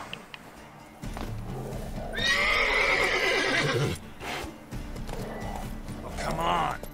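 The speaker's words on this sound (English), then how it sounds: "Get off the horse." In The Witcher 3: Wild Hunt, a horse gives a loud drawn-out whinny, with clip-clopping hooves around it and someone talking over the game sounds.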